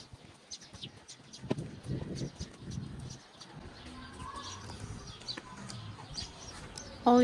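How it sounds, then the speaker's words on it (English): Faint birds call and coo in a quiet outdoor space in Cappadocia, scattered chirps over soft background noise with a few low murmurs. "All you can hear is the chirping of the birds"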